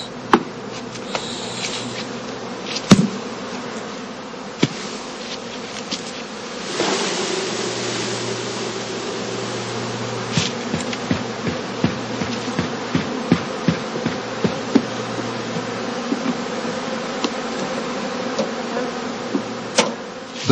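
Honeybee colonies from heather skeps hum with a dense, steady insect buzz while being packed into crates in a heathland apiary, with scattered knocks and thumps from the handling throughout.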